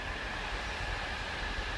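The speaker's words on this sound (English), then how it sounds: "Bit of a train going by though in the background, just to add a bit of ambience." A train rumbles past in the background near abandoned railway relics at Spring View, Wigan, a steady low broadband roll with a faint tonal whine, moderately distant and continuous throughout, with no talking.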